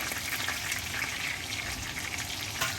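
Pork chops frying in oil for Dominican fried pork chops, a steady dense sizzle with crackling pops, close and continuous with no voices.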